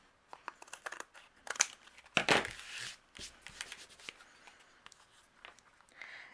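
Paper cardstock being trimmed for a handmade card, with crisp close cuts and rustling handling of the paper, one louder burst of cutting in the middle and lighter scattered snips and crinkles around it.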